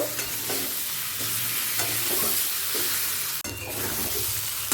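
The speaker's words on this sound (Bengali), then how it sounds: "আলু আর এঁচড়টা মশলার সাথে ভালো করে কষিয়ে নেব" Potato and raw jackfruit sauté with spices in a pan, giving a steady sizzle broken by irregular scrapes of a spoon. A sharp knock sounds near the end.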